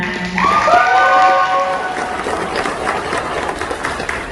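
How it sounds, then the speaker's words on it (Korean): Applause and cheering from a wedding crowd fill the room, loud at first and then settling into a steady wash of clapping. "큰 박수 부탁드리겠습니다"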